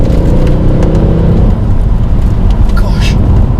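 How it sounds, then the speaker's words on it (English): The V8 engine of a Mercedes C63 AMG with 451 brake horsepower growls loud and low under hard acceleration in third gear, a steady roar throughout, with someone talking over it. "just the growl of that engine"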